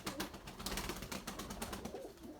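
A white pigeon coos softly nearby in repeated low, throaty calls, with some rustling around it.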